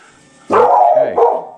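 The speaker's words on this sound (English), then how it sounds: "that's my dog Bella making a lot of noise" A single drawn-out bark or yelp from a female dog, close and fairly loud, breaking into a second shorter cry.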